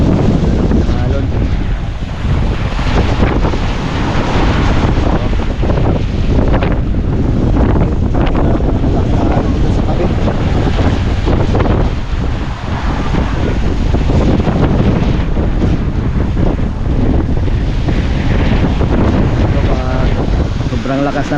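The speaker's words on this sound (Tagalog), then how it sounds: "Sobrang lakas ng amihan." Strong northeast monsoon (amihan) wind at sea beside a small outrigger boat, a loud continuous roar buffeting the microphone with rough waves and surf churning underneath, unbroken throughout with no clear speech.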